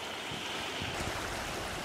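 Shallow sea waves wash steadily in front of a seaside inn with a natural hot spring, a soft continuous surf hiss with no voices.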